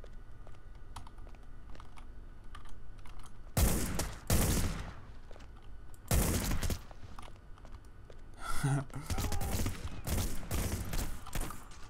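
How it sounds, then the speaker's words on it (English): A submachine gun in Hitman: Blood Money fires several loud, close bursts of rapid shots, separated by quieter stretches of background game noise and clicking. "Pull out the fucking submachine gun."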